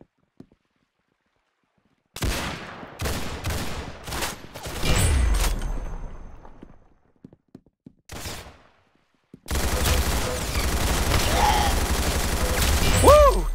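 Rapid bursts of video game gunfire from a shooter crack out in clustered volleys, then pause before a long, dense stretch of sustained shooting with an electronic whine rising near the end.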